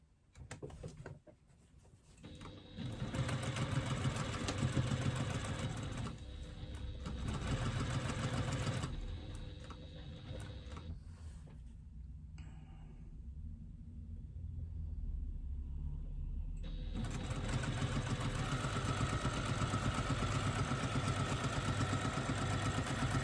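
A sewing machine stitches the side seams of a garment lining in bursts of close, steady, whirring motor hum, with a short pause between runs before a long continuous stretch.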